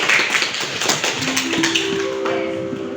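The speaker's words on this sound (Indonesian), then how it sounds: "Tepuk tangan dulu dong buat" Audience clapping hands at a health education session, a steady patter of many claps throughout, with a brief tonal sound near the end.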